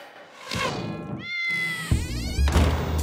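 A house cat meows loudly and close by, a rising drawn-out call, followed by thumps and clatter of something being knocked about, as if milk spilled while the cat chased a toy.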